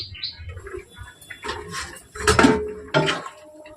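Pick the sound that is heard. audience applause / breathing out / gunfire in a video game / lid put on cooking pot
lid put on cooking pot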